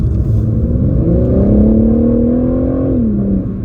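A BMW G80 M3 Competition engine revs with a smooth rising and falling tone, loud and close, running for a few seconds before it eases off.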